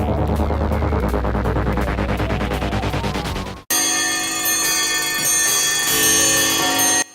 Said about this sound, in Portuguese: Agora temos relógios tocando por mais de 2 minutos antes do primeiro vocal aparecer